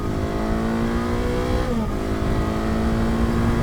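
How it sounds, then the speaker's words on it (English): A motorcycle engine, still being run in, revs while riding on an adventure bike such as a Kawasaki KLE500, CFMoto Ibex 450 or KTM 390 Adventure R, a loud continuous drone that dips briefly in pitch mid-way, close with wind noise. "I'm not revving it all the way out."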